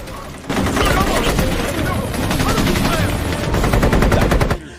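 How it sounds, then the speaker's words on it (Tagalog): Sustained automatic gunfire in an action film scene about a sniper fighting rebels, rapid close bursts of rattling machine-gun shots running continuously for several seconds under dense battle noise. "Sinubukan naman ni Brandon na barilin ang isa sa mga tumatakas na kalaban ngunit nagmintis din ito"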